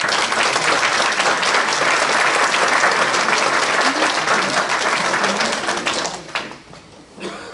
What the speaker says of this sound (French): je crois qu'on peut déjà tous les applaudir